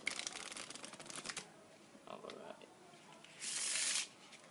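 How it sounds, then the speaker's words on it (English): A deck of playing cards riffle shuffled close by, with a rapid papery ripple of cards, softer handling sounds, and a final loud buzzing riffle burst near the end. "since I like doing riffle shuffles, I'll just give the deck one more shuffle"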